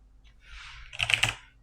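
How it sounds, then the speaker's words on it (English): Brief, close keystrokes on a computer keyboard, a quick cluster of clicks after a soft rustle, with no talking. "Maybe I will type it."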